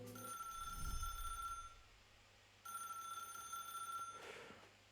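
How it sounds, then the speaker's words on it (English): A telephone rings in a phone booth in the video game Path to Nowhere, two long bursts of a bright electronic ring separated by a pause, fairly quiet over low ambient noise. "you're jolted by a sudden ring of the phone"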